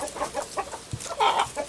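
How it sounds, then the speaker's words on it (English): Chickens in a deep-litter coop give a run of short, close clucks and squawks in an irregular rhythm, with one louder, higher call near the end. "let's go in and say hello to the chickens."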